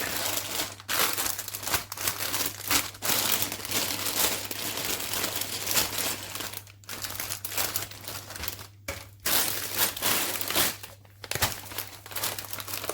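A paper bag of LEGO pieces for an F1 truck set is torn open and handled, giving steady, close crinkling and rustling with sharper tearing bursts throughout, with no voice.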